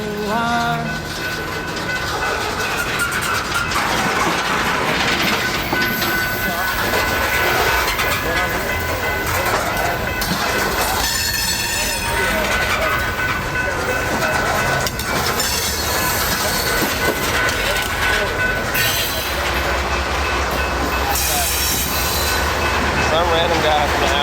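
A coal train rolls past on a railway line in the mountains near Asheville, North Carolina, with engines pushing at the rear: loud, continuous rumbling and clatter of wagons, wheels squealing intermittently, a brief horn, all close by.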